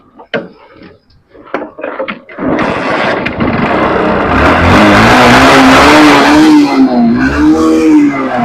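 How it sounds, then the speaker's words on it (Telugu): A 2008 Honda Shine motorcycle is started after a few clicks and knocks, and the engine catches into a loud, steady idle that swells with revs close by. "ఒకసారి ఇంజన్ స్టార్ట్ చేసి చూపిస్తున్నాను"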